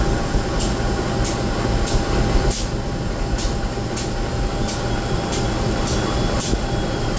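Inside the Airlangga passenger train on the Jakarta to Surabaya line, a loud steady rumble carries a regular series of sharp wheel clicks over rail joints, with no talking.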